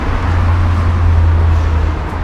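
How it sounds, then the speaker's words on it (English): Road traffic passing near a workshop, heard as a constant low rumble with a droning engine hum, fairly loud and steady, with no talk over it. "Sorry for the traffic noise."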